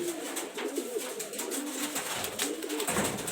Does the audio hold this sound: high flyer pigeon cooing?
yes